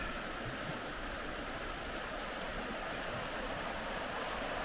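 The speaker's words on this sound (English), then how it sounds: "Just love the sound of water." Water flowing steadily along a stream on a wooded trail near Limoges, France, a continuous broadband rush with no breaks, fairly close and alone without voices.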